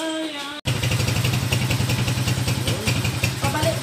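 A converted tricycle's motorcycle engine runs close and loud with a steady, throbbing idle and a slight clatter. It starts abruptly after a short pause and keeps going without letup.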